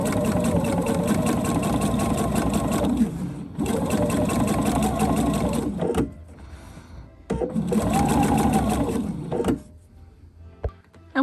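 A sewing machine top-stitches a fabric tree skirt in three sustained bursts of fast, even whirring, each a few seconds long, separated by short quiet gaps with small clicks of the fabric being adjusted.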